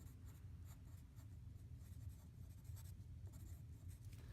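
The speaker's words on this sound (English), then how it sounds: "I'm going to write this up here." A marker or chalk writing on a board during a history lesson, quiet scratchy strokes repeating over a low room hum, with no speech.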